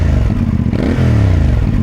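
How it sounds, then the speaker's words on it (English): A CF Moto 450MT motorcycle engine runs through its exhaust, a steady close, loud rumble that swells briefly as the revs rise near the middle before settling back to idle. "if you just have a little listen to this exhaust,"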